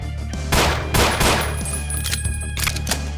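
Enemy gunfire in the video game Ashes: Afterglow: several loud, close bursts of shots crack in quick succession over a constant low game hum, with a final flurry near the end.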